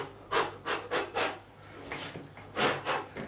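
Frets on a Tanglewood TW47 guitar are filed in quick, rhythmic rasping strokes, about eight close, quiet back-and-forth passes with short pauses between.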